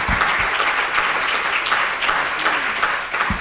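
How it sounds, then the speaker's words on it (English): Audience at the closing session of a conference applauds steadily, a dense, continuous wash of many hands clapping at close range with no voices over it. "could you just give yourselves, thank you, some level of applause"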